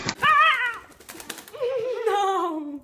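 Pet cockatiel giving two loud, close chirping calls with harmonic, arching tones, separated by a burst of quick flapping and rustling as the bird flutters about.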